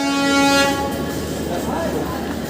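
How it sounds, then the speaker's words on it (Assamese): The Tripura Sundari Express arrives at a railway station, its horn sounding loudly near the start before fading into a low, continuous rumble of the moving train. "ট্ৰেইনখন আহি পেলাই চাই লওক। ট্ৰেইনখন হৈছে ত্ৰিপুৰা সুন্দৰী।"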